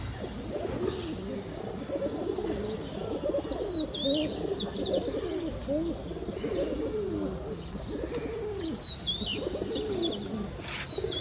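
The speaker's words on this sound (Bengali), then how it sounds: "আর এই হলো কবুতর।" Several pigeons coo steadily nearby in repeated soft throaty phrases, with occasional higher chirps from other birds mixed in throughout.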